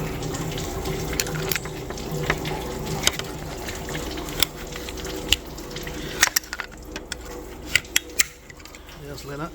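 Coolant drains from a Mercedes W221 S550 M273 engine after a hose clip comes off, a faint trickling and splashing of liquid punctuated by small clicks and taps of tools nearby.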